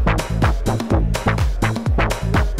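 Synth notes repeating with echoing delay tails that trail off after each hit, a steady pulsing loop with no voices.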